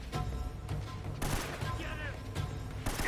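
Bursts of gunfire ring out in Uncharted: Drake's Fortune, loud broadband shots and volleys repeating through the scene, with someone talking over the action.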